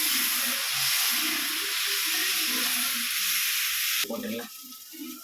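Asafoetida dropped into hot oil while cooking masala dosa, giving a loud, steady, close sizzle and hiss that lasts about four seconds, then breaks into clattering stirring with a weaker crackle.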